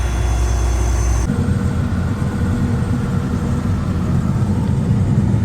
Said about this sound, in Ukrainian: А так комбайн тихо робить.